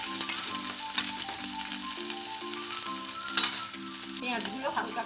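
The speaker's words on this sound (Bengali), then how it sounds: "গরম হয়ে গেছে, এবার এই কুচনো পেঁয়াজগুলো প্রথমে দিয়ে দিলাম।" Chopped onions go into hot oil in a pan and sizzle steadily, with brief stirring clatters, close and continuous and no talk.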